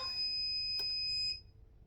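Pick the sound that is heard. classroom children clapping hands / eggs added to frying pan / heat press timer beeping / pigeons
heat press timer beeping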